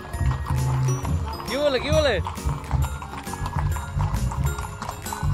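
Horses ridden by a group of riders clip-clop in an irregular patter under loud, excited shouting voices throughout.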